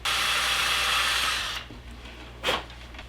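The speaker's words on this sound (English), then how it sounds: "I'm going to again drill this out with a very, very small drill" A very small drill whirs steadily while boring out a broken slat pin in a wooden shutter, then stops, followed by a short burst of drilling after a pause.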